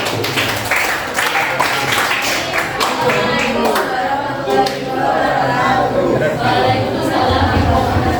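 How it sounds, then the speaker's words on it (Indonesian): Classroom applause for a student group after its presentation: dense, steady clapping from many hands, loud and close, lasting several seconds with faint chatter mixed in. "Tepuk tangan untuk kelompok 1."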